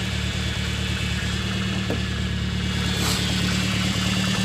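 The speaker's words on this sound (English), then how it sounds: "So this is a cold crank up. Now obviously there's a noisy power steering pump or something there." A cold-started Toyota AE86 engine idles steadily and loudly up close, its low drone overlaid by a constant whine from a noisy power steering pump.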